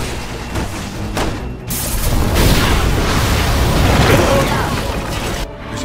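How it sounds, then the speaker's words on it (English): A gas explosion in the video game Resident Evil 6 erupts as a loud, sustained roaring blast with crackling debris, filling several seconds at a steady, heavy level before cutting off. "Someone shoot the gas! We can blow these things to kingdom come!"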